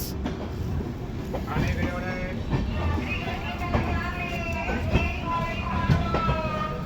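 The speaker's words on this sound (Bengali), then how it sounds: "সাইড থেকে বেরোচ্ছে গুয়াহাটি শিলচর পূর্বোত্তর সম্পর্ক ক্রান্তি এক্সপ্রেস।" Guwahati–Silchar Purbottar Sampark Kranti Express passing nearby, a steady loud rumble of rolling wagons with rhythmic clatter and faint squeals, some voices and wind noise mixed in.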